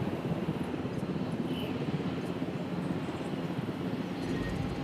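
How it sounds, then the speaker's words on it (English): A helicopter in the Jurassic World Evolution game drones steadily with a low, rumbling rotor and engine wash, fairly faint and continuous throughout. "Come on, helicopter."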